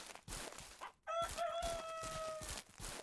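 Farm chickens in the Ranch Simulator video game: a rooster crows loudly in one drawn-out call mid-clip while hens cluck in short repeated bursts before and after, close by with no talk.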